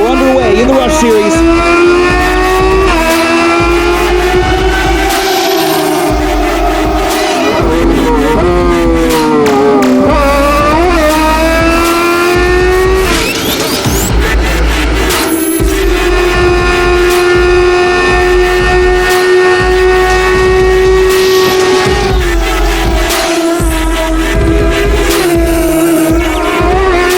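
Race cars roar off the start of a GRIDLIFE Rush Series race at Road Atlanta's Special Stage, loud close engine drone with rising and falling revs through gear changes, a commentator talking over it.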